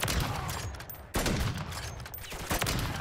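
Heavy gunfire fills a Call of Duty: Modern Warfare Zombies match, loud sustained automatic bursts with a brief break midway, close and dense.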